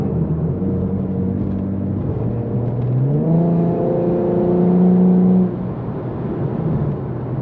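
An Infiniti Q50S engine pulls hard under acceleration from inside the car, a steady rumbling drone that climbs in pitch through the gears, loud and close with no talking.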